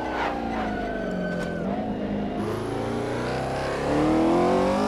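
A 1964 Porsche 904/8 race car with a flat-eight engine driving on the Targa Florio road course, its engine note loud and continuous, rising in pitch through acceleration and gear changes and swelling near the end.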